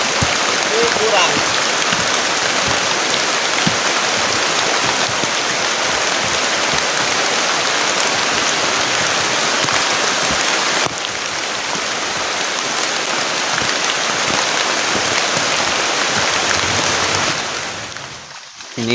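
Heavy rain pours on a forest campsite during a storm with strong wind, making a continuous, loud, dense hiss. It runs almost unbroken before thinning abruptly in the last second or two.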